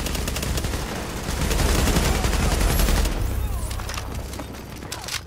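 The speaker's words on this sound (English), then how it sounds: "Who the fuck is shooting?" Dense bursts of automatic gunfire ring out in a Dark Zone firefight in Tom Clancy's The Division, with rapid shots blending into a loud rattling barrage that eases slightly toward the end.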